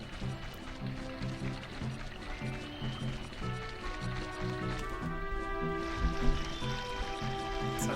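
River water streams and trickles steadily along Zora's River in the Ocarina of Time video game, a continuous low wash under a looping game soundtrack.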